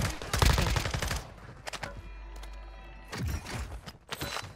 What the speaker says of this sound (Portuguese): já tá me atirando